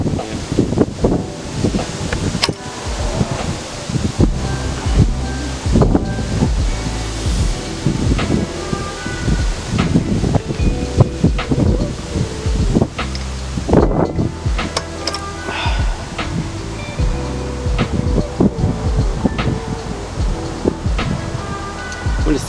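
Strong outdoor wind buffeting the microphone, with gusty rumbling and rustling that rises and falls throughout, along with scattered thumps and handling noises.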